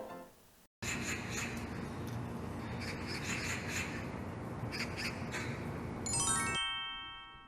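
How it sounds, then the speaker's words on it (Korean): A magpie gives a run of harsh, repeated chattering caws, clear and fairly close, after a brief silence, ending with a short chime. "까치는 깍하여 우는 소리에서 유래되었습니다"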